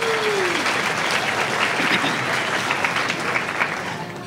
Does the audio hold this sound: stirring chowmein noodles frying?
no